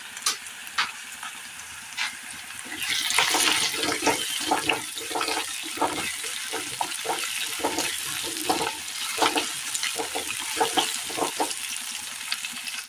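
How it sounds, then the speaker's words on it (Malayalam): Curry leaves hit a hot pan of oil and fry, a sharp burst of crackling sizzle that settles into a steady hiss broken by repeated spoon scrapes and knocks against the pan, close and alone. "ഇതിലേക്ക് ഒരു 2 തണ്ട് കറിവേപ്പില കൂടി ഇട്ട് കൊടുക്കാം"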